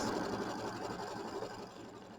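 An embroidery machine stitches a tack-down line on quilt fabric backed with stabilizer, a steady close mechanical whir with rapid needle rhythm, running alone and easing slightly quieter toward the end.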